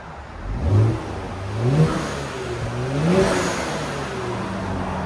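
A 2020 Kia Stinger GT with a 480 hp 3.3L twin-turbo V6 and stock exhaust revs three times in quick succession, each throttle blip rising and falling close by with no talk.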